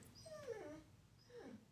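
Indoor dog giving two soft, high whimpers, a rising-then-falling whine followed by a shorter second one, faint and close with no other sound around.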